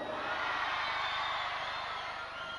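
A large concert crowd at a town day celebration roars and shouts the town's name in unison, a dense, loud, sustained wall of cheering voices filling the whole stretch.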